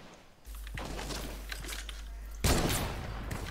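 Shotgun blasts ring out in a competitive online shooter match, a steady loud barrage with a sharper, louder shot about two-thirds of the way through, no talk over it.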